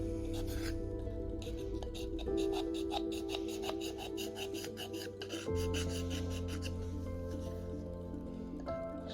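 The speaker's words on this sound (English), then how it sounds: "it's very easy to scrape off with a sharp scraper like this, or like with this one." A sharp hand scraper rasps repeatedly over a .22 caliber FX Impact airgun pellet magazine, scraping off cyanoacrylate glue in quick, close, rhythmic strokes over a faint steady hum.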